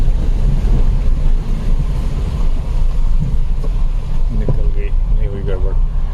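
A vehicle pushes through muddy water on a forest track in tiger territory, a loud broadband wash and rumble of engine and splashing water, with a few faint clicks near the end.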